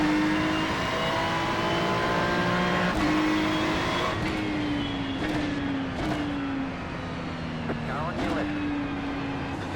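A Ferrari race car engine in the iRacing simulator, in a Ferrari Challenge race at Interlagos, holds a steady high drone with repeated upshifts and brief lifts, running continuously under a Portuguese commentator's voice.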